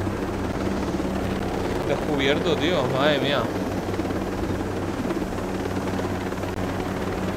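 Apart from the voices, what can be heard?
helicopter flying in Ghost Recon Breakpoint video game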